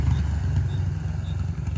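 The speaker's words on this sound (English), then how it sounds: "Motorcycle." A motorcycle's low engine rumble rolls past steadily, moderately loud, with a faint rattle and no voices.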